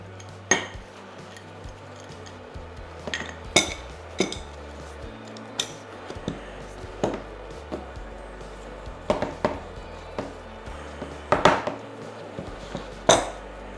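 Sharp metallic clinks and knocks from an adjustable wrench working loose the lower tube of a Surface dropper post, scattered irregularly over a low steady hum, close and fairly quiet.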